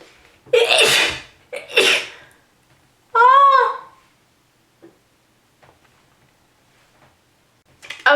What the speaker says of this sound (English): I just had a sneezing incident